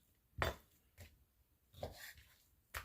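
A knife cuts through air-fried chicken, giving a few faint separate crunchy slicing strokes with short pauses between them.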